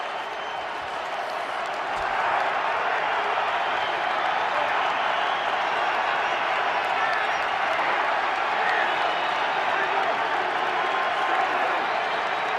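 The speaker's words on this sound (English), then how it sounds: "the Giants players urging on these fans to get loud" Giants fans roaring in a football stadium during a 2017 Chiefs at Giants game, cheering for the Giants defense; loud, continuous crowd noise that swells after the first couple of seconds and holds steady.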